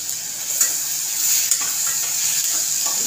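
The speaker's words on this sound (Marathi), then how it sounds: "गॅस मिडियम ठेवलाय आणि त्याच्यात तेलामध्येच मी आता हे शेंगदाणे टाकते" Soaked peanuts fry in hot oil in a pan on medium gas heat, giving a steady close sizzle with faint stirring scrapes and no talking.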